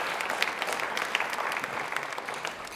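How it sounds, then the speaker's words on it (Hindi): A studio audience at a televised health quiz show claps enthusiastically, a dense, steady burst of applause with a few sharper individual claps standing out, heard on its own without talk. "एक बार तालियां इनके लिए और इनके लिए जोरदार हो जाए"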